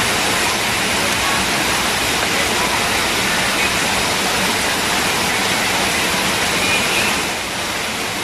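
Steady heavy rain falling outdoors on a holiday at a street stall making Thai coconut pancakes, a dense continuous hiss with no break for the whole stretch.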